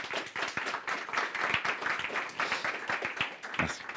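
A small audience applauds after a software demo at a technical meetup on the Language Server Protocol, with dense, steady clapping that runs for several seconds at moderate volume.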